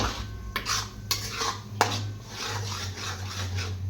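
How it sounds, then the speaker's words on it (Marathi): A paneer masala mixture being sautéed in ghee and butter, with a utensil scraping and clinking against the pan in several sharp strokes over a soft continuous sizzle. No one speaks. "हे सर्व मिश्रण मस्त एकजीव करून छान असं या तुपामध्ये आणि बटरमध्ये परतून घ्यायचं"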